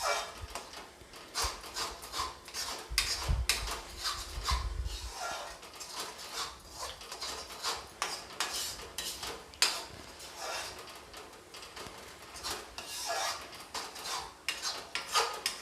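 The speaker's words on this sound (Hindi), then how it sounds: "पालक को मैंने बिल्कुल अच्छी तरीके से चला लिया हुआ है" A spoon scrapes and clanks against a pan as spinach is stirred and fried, with repeated metallic taps and rubbing strokes in an irregular rhythm, close and fairly quiet.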